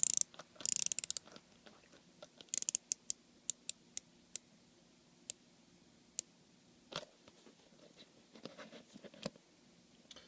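Ratcheting bezel of a Deep Blue Master Explorer 1000 dive watch being turned, giving a string of crisp, close clicks, some bunched in quick bursts and others spaced singly, in a quiet room.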